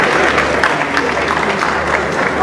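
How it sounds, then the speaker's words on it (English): A crowd gives a round of applause, dense and fairly loud clapping carrying on evenly throughout, with a low hum underneath. "I think he deserves a round of applause."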